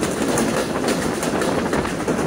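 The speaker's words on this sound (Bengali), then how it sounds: "হেলা দুলা যাচ্ছে আমাদের মোংলা কমিউটার ট্রেন।" A Mongla Commuter local train rolls along the rails with a steady, loud rumble and continuous rhythmic clatter of wheels, no talk heard.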